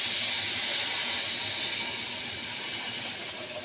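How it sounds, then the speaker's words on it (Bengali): Water goes into roasting semolina in a hot pan while making modak, giving a loud, steady hiss of steam and sizzle that eases slightly toward the end, with no voices. "এবার জলটা দিয়ে দেবো।"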